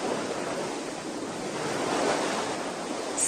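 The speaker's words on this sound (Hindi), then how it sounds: "तभी तूफान आ गया।" Stormy sea at rough surf, waves crashing and roaring steadily with gusting wind noise throughout, loud and broadband with a slight swell in the middle.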